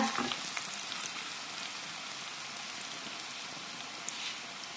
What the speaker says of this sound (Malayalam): അപ്പൊ നമ്മുടെ സവാള നോക്കിയേ നന്നായിട്ട് ഒന്ന് വഴണ്ടി വന്നിട്ടുണ്ട്.